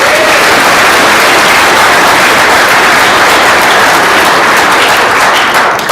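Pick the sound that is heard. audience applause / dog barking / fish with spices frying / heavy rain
audience applause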